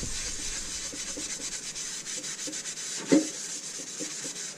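A scrub pad rubs across the bottom of a very dirty pan in steady, close strokes, with one sharper scrape partway through.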